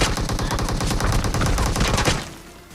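Rapid automatic gunfire in a video game shootout, a dense burst of loud shots for about two seconds before trailing off.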